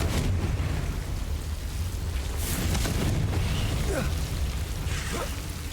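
Confringo fire spell blasts in the game Hogwarts Legacy, a steady roaring rumble with a few brighter bursts and whooshing hits layered over it, loud and continuous.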